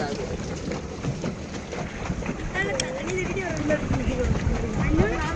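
Small boat ride on open water, with steady wind buffeting and water wash running throughout and people chatting over it.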